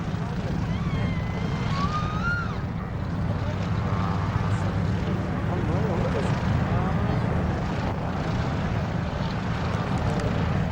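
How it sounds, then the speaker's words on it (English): RAAF Roulettes aerobatic aircraft performing at the 1997 Caboolture Air Show in Queensland, Australia, a steady propeller engine drone droning on throughout under a commentator's voice. "He places aircraft into uncontrolled flight before recovering to demonstrate the rather impressive tuning capability of the aircraft."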